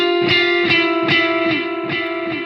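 An electric guitar runs through a delay pedal set to a very high feedback level, so each of several plucked notes smears into a thick, washy wash of repeats over a steady sustained tone, close and fairly loud.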